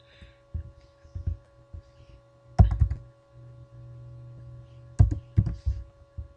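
Keys tapped on a computer keyboard while a file name is entered into data logger configuration software, heard as a few clustered bursts of close clicks and thunks over a steady low electrical hum, with no talking.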